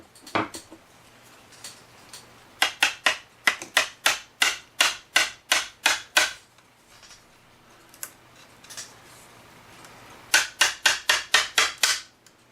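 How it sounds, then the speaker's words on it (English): Sharp repeated hammer strikes into wood on a cuckoo clock in quick bursts, several runs of rapid blows separated by short pauses, fairly close and loud. "you're gonna have to hammer it down in here"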